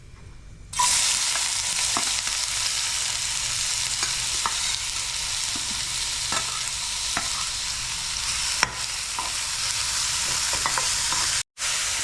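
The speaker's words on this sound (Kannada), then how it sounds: "ಈಗ ಒಗ್ಗರಣೆ ಹಾಕೋಣ ಬನ್ನಿ ಗೈಸ್" Spices for tempering sizzle in about two spoons of hot oil in a pan, a steady loud hiss of frying that begins abruptly and runs throughout, with scattered pops and light stirring clicks and no talking, briefly cutting out near the end.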